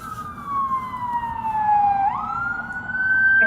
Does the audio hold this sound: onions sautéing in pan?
no